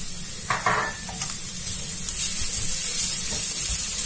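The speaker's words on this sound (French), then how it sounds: "Je vais mélanger et je vais laisser encore cuire pendant 5 minutes." Half-cooked carrots and added olives are stirred in a hot pan, giving a close sizzling hiss broken by scraping, clattering stirs of the utensil, with the sizzle growing slightly louder toward the end.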